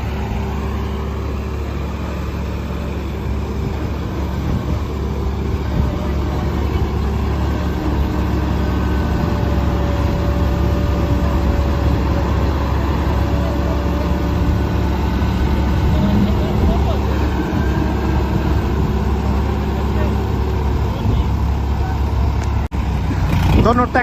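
A John Deere 5075E tractor in four-wheel drive and a bulldozer strain against each other outdoors, their heavy engines making a constant low, loud rumble throughout, with people talking over it.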